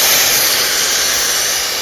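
A steam iron releases a loud, close, continuous hiss of steam while pressing fabric for a welt pocket, steady from start to finish.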